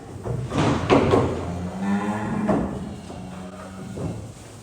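Cattle being unloaded from a lorry at a livestock auction, several loud, drawn-out moos overlapping at close range, with knocks from the trailer in between.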